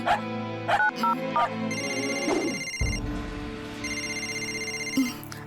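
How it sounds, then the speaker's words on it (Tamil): An electronic phone ring in a Tamil cartoon repeats in steady pulses, while a dog barks sharply a few times near the start. "இரு நான் சிவாக்கு ஃபோன் பண்றேன்"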